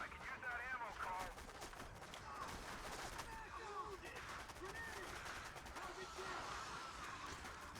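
Rapid gunfire from the player's weapons in the 2005 Xbox shooter Area 51, quick bursts of shots stacked with game effects, with someone talking under the action.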